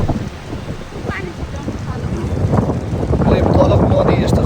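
Strong, sudden wind on a hiking trail in Tennessee buffets the microphone in a steady, rising roar, with a voice faintly mixed into the gusts.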